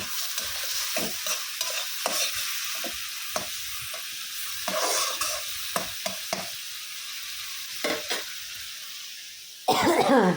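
Potatoes with turmeric and green chilies sauté in a pan, with steady sizzling under repeated scraping stirs of a spoon.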